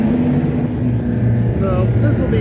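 Race cars at Ozarks International Raceway roar past at close range, a Toyota Supra lapping a green Mustang, with a loud continuous engine drone that shifts pitch as they pass.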